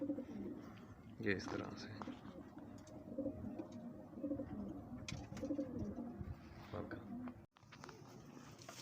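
Domestic pigeons with an eye infection coo softly in a steady low murmur, with someone speaking over them throughout.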